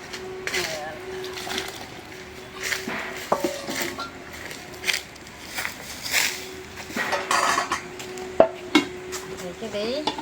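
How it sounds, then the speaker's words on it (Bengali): Bottle gourd cooking in a wok for a black gram dal dish, with spoon stirring, scraping and clattering of utensils in uneven bursts over a steady low hiss and hum. "আমার স্বাদের কদু ঢাইলে দিলাম কড়াইতে।"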